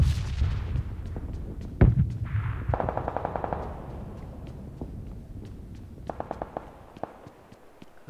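Gunfire in the video game PUBG Lite: a heavy close shot, then bursts of rapid automatic fire and scattered single shots echoing at varying distances, with no speech over it.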